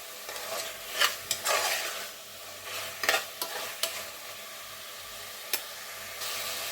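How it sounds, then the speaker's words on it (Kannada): Chicken for biryani sizzling in a pan while a spoon stirs it, steady frying hiss with scattered scraping clinks and scrapes, close and moderately quiet, no talking. "ಇವಾಗ 5ರಿಂದ ಒಂದು 10 ನಿಮಿಷ ಚಿಕನನ್ನು ಚೆನ್ನಾಗಿ ಬೇಯಿಸ್ಕೊಬೇಡೋಣ"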